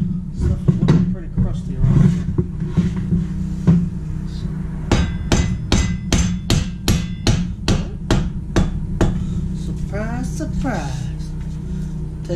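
A hammer taps on the rear wheel axle of a 2006 Harley-Davidson Ultra Classic motorcycle. A series of close, evenly spaced metallic strikes sounds over a low background with some voice sounds.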